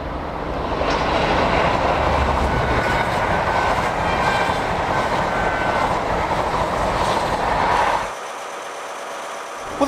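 The GWR Flying Banana railtour train runs along the rails with a steady, loud rumble and faint clickety-clack beneath it, continuing for several seconds before dropping to a quieter hum near the end.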